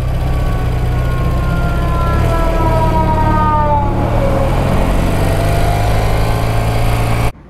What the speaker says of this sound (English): Is that a police car?